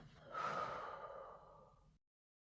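A single long, breathy exhale out through the mouth, close and soft, rising quickly and then fading over about a second and a half before silence, during a gentle morning yoga session.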